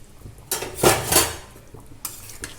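A metal cooking pot lid is lifted off simmering mutton curry, giving a clanking scrape and clatter of metal close by, followed by a second lighter knock, with no talk.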